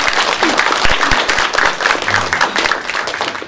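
A lecture audience at a televised health talk on diet gives loud, dense applause, with sustained rapid clapping filling the whole stretch and a few voices mixed in.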